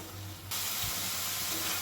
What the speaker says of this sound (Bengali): এখন মশলাটা আবার কষিয়ে নেব